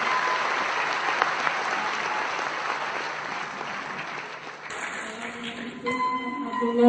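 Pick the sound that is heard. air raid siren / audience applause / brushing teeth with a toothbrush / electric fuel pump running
audience applause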